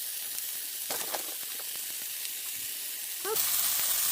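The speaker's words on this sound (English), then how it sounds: "I'm going to go over the edge to give it like a cheese skirt, a fried cheese skirt." Cheese for a quesabirria taco sizzles and fries in a hot pan, a steady loud hiss running throughout, with a few faint clicks and a louder burst near the end.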